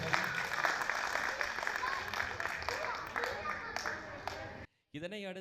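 Audience at a Tamil community festival in Graubünden clapping after a girl's song, a thick, even wash of applause with scattered sharper claps, fairly faint, breaking off into a brief gap and then a spoken voice.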